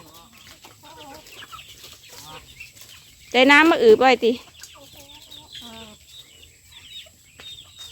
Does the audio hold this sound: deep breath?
no